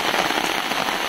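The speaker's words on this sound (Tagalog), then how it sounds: "Grabe ang ulan." Heavy rain pours in a dense, steady hiss, loud and uninterrupted across a brief moment.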